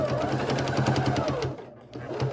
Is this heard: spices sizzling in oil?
no